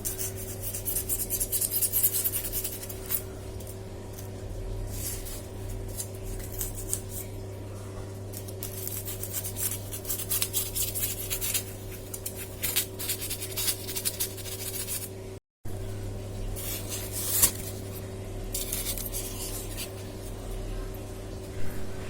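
A round cutter slicing shapes from a chocolate sheet for a chocolate tower cake, heard as soft rubbing and rasping scrapes that repeat steadily, close up, over a constant low fan-like hum, with no talking.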